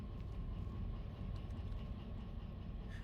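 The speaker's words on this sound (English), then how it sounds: "Why am I shunting with this massive train?" Train being shunted in the video game Derail Valley, a low, continuous rumble of rolling rail cars with faint clanks, quiet and steady throughout without voices.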